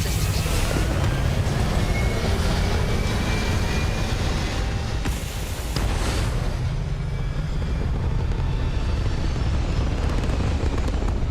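A rocket lifts off in a space video game with a loud, dense, continuous roar that rumbles deep and steady throughout, briefly dipping midway before swelling again, with no talk.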